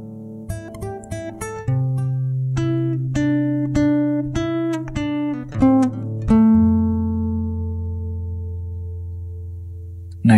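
Fingerstyle acoustic guitar plays a plucked picking pattern of single notes over sustained bass strings, rhythmic and close, ending on a long ringing chord that slowly fades; no voices.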